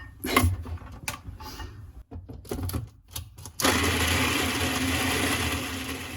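A food processor whirs loudly and steadily during meal prep after a few short bursts and pauses, settling into a continuous mechanical drone for the last few seconds.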